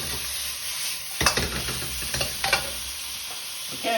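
Chicken with pineapple sizzles in a hot pan while being stirred, a steady frying hiss broken by a few sharper scraping knocks of the utensil, close up with no talk.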